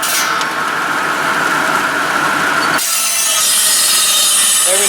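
Saw blade driven by a Grey Fergie tractor cutting logs, a loud continuous grinding whine that shifts abruptly to a brighter, harsher pitch partway through, close and steady, with no talk.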